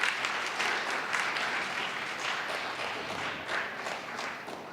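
Audience at a Poetry Out Loud finals event applauding, a dense steady round of clapping from many hands filling the room, fairly faint and continuous without talk.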